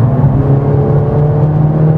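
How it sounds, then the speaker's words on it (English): The turbocharged engine of a 2021 Mercedes GLA45 AMG revving after its turbo lag, a loud steady droning whir that holds near and strong throughout without voices. "I'm gonna get right to the engine. So it's a turbo, so naturally you always have turbo lag."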